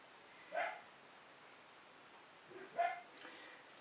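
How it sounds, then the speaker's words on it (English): Dogs bark at the family cat, two separate sharp barks a couple of seconds apart, moderately distant against a quiet room background. "That's the dogs barking at a cat."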